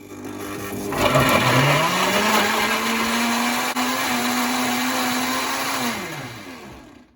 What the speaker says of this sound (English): So we'll just whisk this up